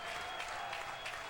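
Baseball crowd applauding the LSU Tigers at their Baton Rouge ballpark during a super regional game against UC Irvine, a steady wash of clapping from a large stadium audience, continuous and fairly distant.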